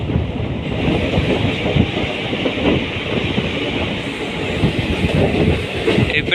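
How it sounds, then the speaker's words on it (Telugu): The Delta Express runs past near Sanathnagar, a steady close rumble of wheels and carriages with rhythmic clatter, ending with a brief hiss of higher noise. "ఇక్కడ నుంచి ఏదో ట్రైన్ పోతుంది, డెల్టా ఎక్స్ప్రెస్ అంట"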